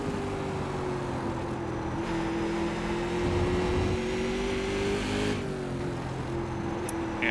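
Steady, droning engine note from a Silver Crown race car at Watkins Glen International in iRacing, holding a sustained tone under throttle with slight pitch shifts as it works through a lap.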